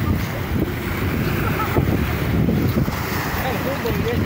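Steady, roaring wind from Typhoon Goring sweeps over Manila Bay, a constant rushing buffet with low gusts and wind noise on the microphone, loud and unbroken throughout.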